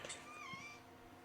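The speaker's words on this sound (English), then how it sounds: "Was that a cat? That was a cat." A cat lets out one short, faint meow with a rising then falling tone, heard alone against a quiet indoor background.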